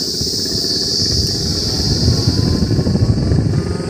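A motorcycle picks up speed on the road, its engine giving a steady rumbling drone with wind roar that swells louder toward the end.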